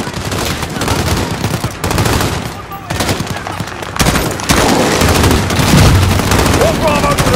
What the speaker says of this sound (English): We're taking fire from the residence.